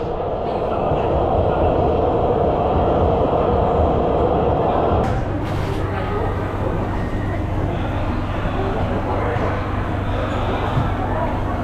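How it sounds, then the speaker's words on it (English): A Shanghai-Suzhou Line 11 metro train rumbles steadily as it pulls away, a loud continuous roar with a sharp mechanical clunk partway through. "There's another train going out."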